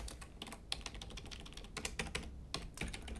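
Rapid typing on a Goldtouch computer keyboard, close and clear, with irregular bursts of key clicks and brief pauses and no voices.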